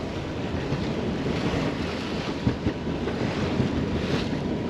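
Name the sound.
wind and waves on a sailing boat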